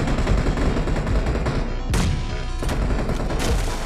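In the BGMI battle royale mobile game, a grenade blast mixes into bursts of gunfire, with dense crackling shots and sharp booms close up and loud throughout the few seconds.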